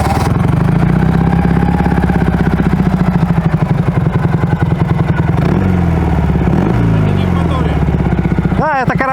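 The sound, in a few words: Ural motorcycle running with a noisy gearbox bearing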